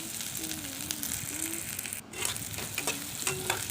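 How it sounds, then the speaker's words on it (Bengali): Sliced bitter gourd and onion sizzle steadily in a pan over a medium gas flame, with occasional scrapes and stirring clatter over the constant hiss. "উচ্ছেটাকে দিয়ে এই পেঁয়াজ উচ্ছের সঙ্গে একটু হালকা করে ভেজে নেব।"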